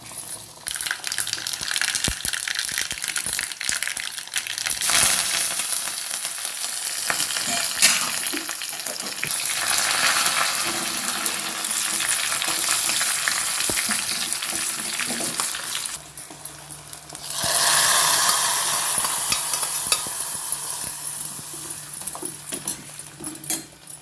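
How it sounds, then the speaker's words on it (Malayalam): Mustard seeds frying in hot oil for tempering a rambutan pachadi side dish, giving a steady loud sizzle with scattered crackling pops that swells again near the end, with no talk. "ഇനി കടുവറുത്തിടാം"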